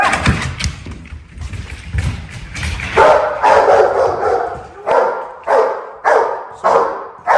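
A dog barks repeatedly at an intruder during a personal protection search exercise, loud close barks coming in a steady rhythm, with thumps and some scuffling early on.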